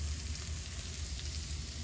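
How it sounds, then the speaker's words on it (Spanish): Meat and pork belly frying in leftover lard in a pan for a Cuban chickpea stew with ribs, a steady faint sizzle and crackle with no talk. "vamos a estar echando a dorar en la misma manteca que sobró, en la misma mantequita que soltó la carne y el tocino"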